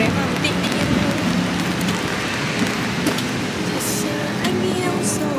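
Steady afternoon rain in Singapore, a dense continuous patter close by, with voices talking faintly underneath.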